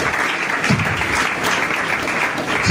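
A church congregation claps together in steady applause, a dense, continuous patter that holds level throughout with no voices above it.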